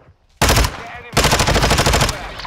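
Video game gunfire: after a brief quiet moment, loud rapid automatic fire erupts in a sustained burst, breaks off for an instant, then resumes in a longer, dense rattling stream.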